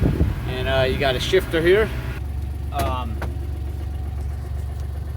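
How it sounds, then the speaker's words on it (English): The engine of a Cushman Hauler 4x4 cart idles in a low, steady rumble, with someone talking over it early on. "And I'm gonna start it up. Step on the gas. Step on the brake. Turn the key."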